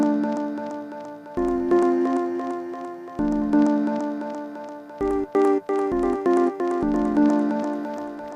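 Chopped phrases from a Japanese vinyl sample are triggered by MIDI notes into a melody. Sustained tonal chords are cut into stepping blocks that grow shorter and more clipped toward the end, playing close and alone.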